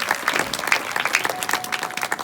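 An audience claps in a steady, lively burst at a comedy Ramayan stage show, a dense patter of many hands with uneven individual claps standing out, alone without talk.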